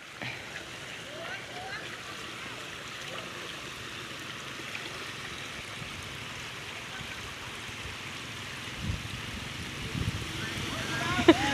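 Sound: lake shore water at Ban Takang lake

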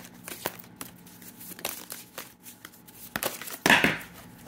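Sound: shuffling new circular tarot cards

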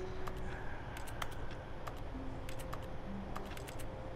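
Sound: keyboard typing in the video game Stanley Parable

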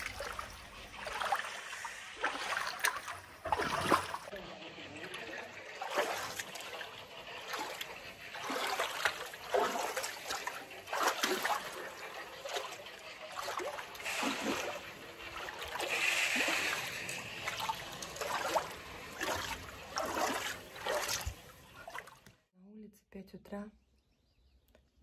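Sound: water running from a hose

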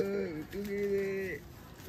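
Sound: pigeons cooing on a rooftop

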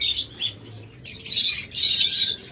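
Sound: violet opaline lovebird pair chirping

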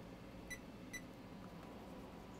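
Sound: multimeter beeping in continuity mode

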